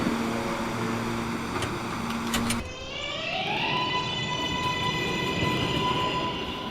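A Bronx-bound 4 express train on the New York subway at Grand Central: rumbling rail noise with a tonal hum, then a rising motor whine that settles into steady pitched tones as the train gets moving.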